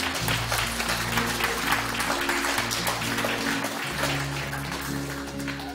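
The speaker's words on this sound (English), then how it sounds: "Give the Lord a hand clap." A church congregation claps hands loudly and steadily, the applause filling the space over sustained music.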